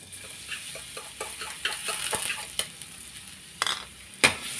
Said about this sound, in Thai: ผัดกระเทียมให้หอมค่ะ